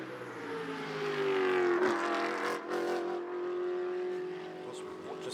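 GT Cup race car at an Asia Le Mans Sprint Cup round, its engine note rising as it approaches and passes, then fading with a falling pitch, and a commentator speaking over the sound.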